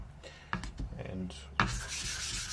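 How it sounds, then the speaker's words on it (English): A worn 400-grit diamond plate rubs against a Japanese natural sharpening stone, raising a wet slurry with short scraping strokes, faint and close, ending in a longer hissy rub. "I'm going to raise a diamond slurry using a worn out 400."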